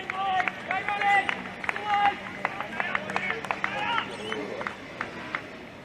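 Spectators at a cricket ground during a grand final form a distant, murmuring crowd with scattered claps and cheers, under a voice speaking close by.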